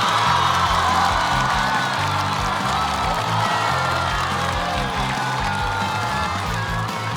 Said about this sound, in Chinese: 让我们掌声有请李乃文。